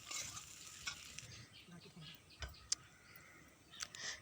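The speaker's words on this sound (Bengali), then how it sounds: "এরপরে আমি ভালোভাবে নাড়িয়ে নিচ্ছি" Spicy pasta with Maggi masala being stirred in a pan, a faint sizzle under intermittent spoon scrapes and a few sharp clicks against the pan.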